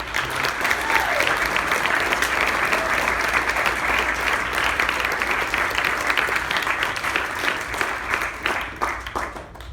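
Sustained, loud applause from an audience congratulating a student drummer, steady dense clapping throughout with a slight tapering near the end.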